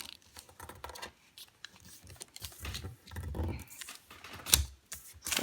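Paper is folded for an origami walrus, with soft, close crinkles, creases and rustles in short irregular bursts, quiet and without talk.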